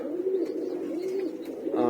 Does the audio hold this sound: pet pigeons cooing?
yes